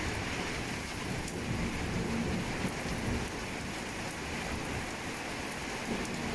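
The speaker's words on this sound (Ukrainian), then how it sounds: "І постійно гримить і гримить, гул в небі такий" Heavy rain pours during a violent thunderstorm with hurricane-force winds, a dense, constant hiss of downpour with a low underlying rumble, steady throughout and without voices.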